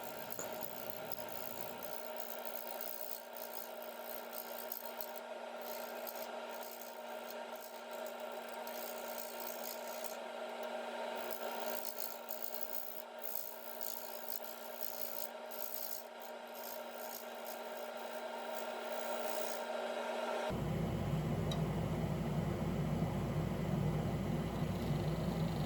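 Easy Wood Tools #1 hollower with a negative rake cutter cutting a resin vase on a woodturning lathe, a steady faint scraping hiss over a constant motor hum that rises slightly toward the end.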